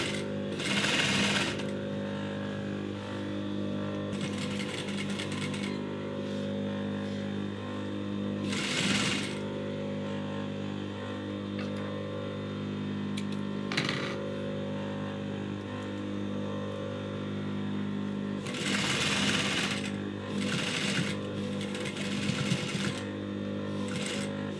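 A sewing machine stitches the side seams of a dress in five quick motorized bursts with pauses between them, over a constant low hum.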